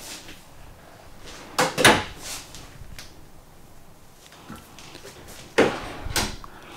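Drawers in a 2023 Alliance Paradigm 310RL fifth wheel trailer slide and shut close by: a quick pair of knocks and thuds comes first, then a pause, then another pair of thumps, set against a quiet interior.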